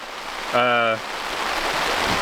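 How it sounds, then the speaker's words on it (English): Rain falls steadily on a tent at a campsite, a continuous close hiss that runs through the whole stretch, briefly overlaid by a short, tonal, voice-like sound near the start. "Hopefully the rain calms down in a little bit"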